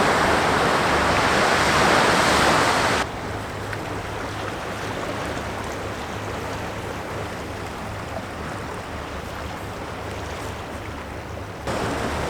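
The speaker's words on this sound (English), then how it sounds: "So I've come out onto the end of the shortest of the 3 breakwaters out on this beach" Waves wash and churn around the end of a short breakwater on a beach, a dense, steady rush of water that drops abruptly to a softer, more distant surge after a few seconds, with no voices.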